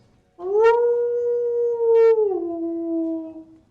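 Wolves howl in the distance through the woods, two long, smooth, sustained howls that overlap and then slide down in pitch, carrying clearly over a quiet background with no talking.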